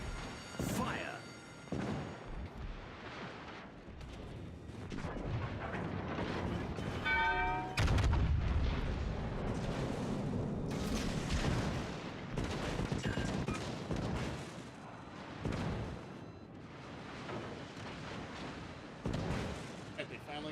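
Rapid gunfire and heavy booms in a naval battle game, volleys of sharp shots and deeper blasts cropping up through the stretch, mixed under a voice talking.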